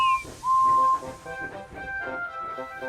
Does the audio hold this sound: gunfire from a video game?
no